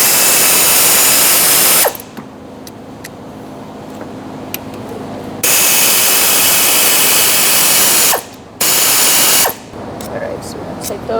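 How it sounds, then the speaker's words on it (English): A power ratchet or impact tool drives a 10 mm socket to back out bolts on the 1.6L four-cylinder valve cover of a 2012-2017 Hyundai Accent, with loud sustained whirring bursts separated by quieter gaps. "now we're going to take out these two using a 10 millimeter socket again."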